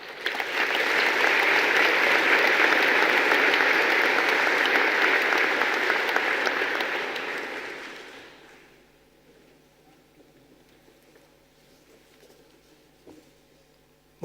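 Sustained applause from a large crowd at a Royal Veterinary College graduation ceremony, loud and steady for about eight seconds before fading into a quiet hall.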